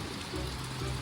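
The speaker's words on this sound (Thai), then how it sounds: "ฝนตกนะครับ" Heavy rain falls at an elephant shelter, a soft, even hiss of drops spread across the whole range, faint and steady throughout.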